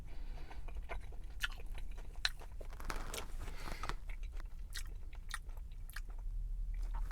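A close mouth chews an Arby's Hushpuppy Cajun fish wrap with soft crunches and wet bites repeating over several seconds, alone with no talk.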